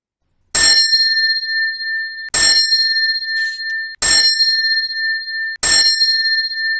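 A bell rings four times at an even, unhurried pace, each strike bright and loud with a long ringing decay.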